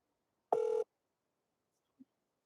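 One short outgoing phone ring tone sounds clearly and steadily for about a third of a second, followed by a faint brief blip and otherwise near silence, with no talking.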